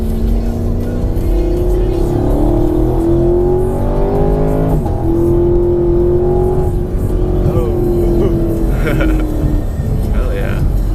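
A Chevrolet Camaro SS accelerates hard through the gears on a back road, its engine climbing in pitch, dropping sharply at each shift and climbing again, loud and close with people talking over it.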